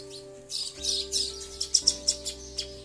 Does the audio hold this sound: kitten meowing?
no